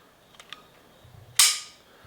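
The trigger of a CZ P10C striker-fired pistol being pulled: a couple of faint light clicks, then one sharp, loud, close snap as the trigger breaks, followed by a brief fading ring.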